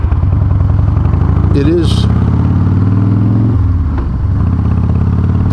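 Motorcycle engine droning steadily while riding a 22-year-old bike, loud and continuous throughout with a brief pitch shift partway, as someone talks over it.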